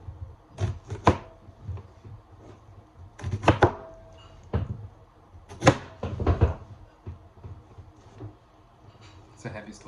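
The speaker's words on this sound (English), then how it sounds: "Chopping some onions." Rough chopping of onions for a buttered chicken sauce, with irregular bursts of knife strikes on a board, close and fairly loud, over a quiet kitchen background; a person's voice is heard at times.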